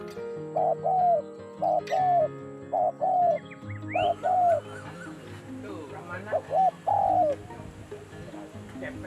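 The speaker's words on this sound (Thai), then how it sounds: "นกมันจะมี ระดับเสียง นะครับ มันจะมี 3 ประเภท คือเสียงเล็ก เสียงกลาง แล้วก็เสียงใหญ่" A dove coos in repeated two-part phrases, fairly close, with short pauses between them; voices and other bird sounds murmur faintly in the background.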